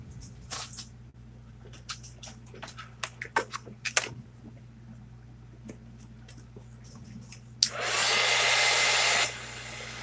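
Near the end a hair dryer blows loud and steady for about a second and a half, drying a coat of craft paint, after a run of scattered taps, clicks and handling noises.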